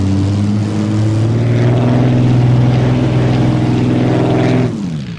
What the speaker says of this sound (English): This is a 24-liter Napier Lion engine.